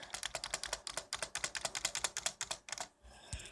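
Rapid, close keyboard typing in a quick irregular rhythm of crisp clicks for about three seconds, then a pause and a couple of final taps.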